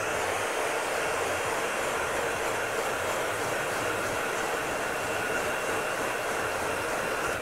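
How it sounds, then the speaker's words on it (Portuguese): A hair dryer on its hot setting, used to melt hair pomade, gives a steady, loud rushing airflow with a constant motor hum, blowing continuously without pause. "vou começar a derreter essa pomada usando o secador na temperatura quente"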